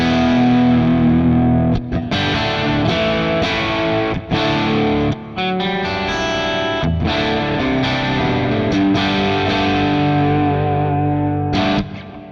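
A Gretsch electric guitar plays loud, distorted chords and notes through an amp, with a few short breaks between strums and no talk.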